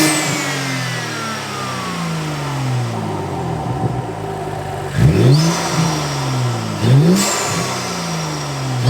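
A BMW 435i fitted with an Injen intake is revved with the hood open: repeated rising and falling engine sweeps build to two sharp, loud blips near the end, close up, over a steady idle, with no talking.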